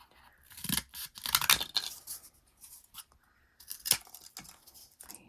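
Scissors snip through a piece of craft material in several bursts of crisp cutting and tearing noise, close and fairly loud, with short quiet pauses between strokes and no talking.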